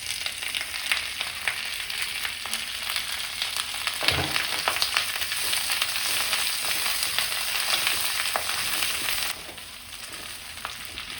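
Curry leaves sizzle in coconut oil for a Kerala-style pickle, a steady close hiss with a low knock partway through, dropping quieter near the end.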